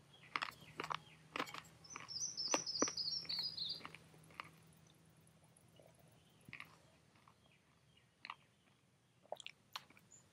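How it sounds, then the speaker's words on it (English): Someone chews parched dried corn, a series of sharp crunching bites near and distinct, spaced irregularly, with birds chirping and tweeting in the outdoor background. "Now after parching it, it becomes easy to chew."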